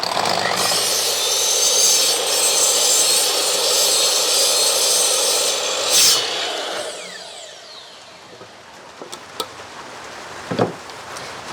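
A power saw cuts through a twisted, warped piece of timber for a mud kitchen build, a loud sustained whine that runs for about seven seconds, then stops, leaving quieter knocks and handling sounds.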